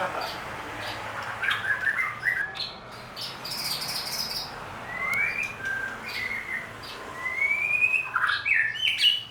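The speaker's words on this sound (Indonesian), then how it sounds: "Ini nama burungnya apa ini Mas? Barat merah." A barat merah songbird calls with bright, rising whistled chirps and short trills. The notes come in scattered bursts over a steady outdoor hiss of insects and background noise, fairly close and clear.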